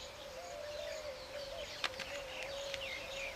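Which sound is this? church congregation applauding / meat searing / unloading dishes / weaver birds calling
weaver birds calling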